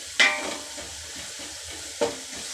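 Rice for meat biryani fries in a pan with a soft, steady sizzle. Two sharp utensil scrapes come from close by, one near the start and one about two seconds later.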